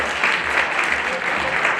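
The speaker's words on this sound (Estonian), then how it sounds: "ülejäänud võivad ikkagi veel plaksutada" Brief burst of audience applause at a school's 100th anniversary celebration, dense clapping continuing steadily at close range.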